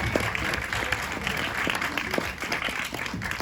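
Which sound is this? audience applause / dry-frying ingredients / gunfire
audience applause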